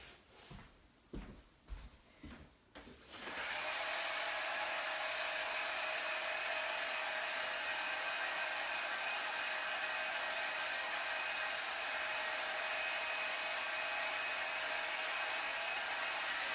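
A few clunks and thumps of handling give way to a handheld heat tool switching on. It blows a steady, constant whirring hiss for a long stretch while heat-setting craft ink, close by, and no one talks.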